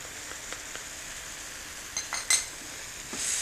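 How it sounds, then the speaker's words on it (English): Spring onions and noodles stir-fried in a wok, with a steady low sizzle under a few light clinks and scrapes of utensil against metal. "Now, keep stir frying that for about 2 minutes."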